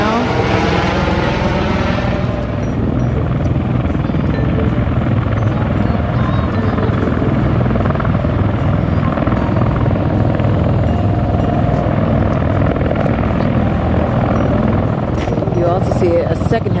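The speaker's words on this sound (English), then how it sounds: "that could be helicopter number 1 that is landing right now." The presidential helicopter comes in to land, a loud, close, continuous rotor roar and chop that fills the whole stretch, with a voice talking over it.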